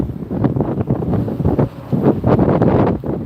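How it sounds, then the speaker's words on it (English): Strong gusting wind at Las Vegas Airport buffets the microphone with a heavy, roaring rumble that swells and dips throughout, loud and continuous with no voices. "I told you these gusting winds."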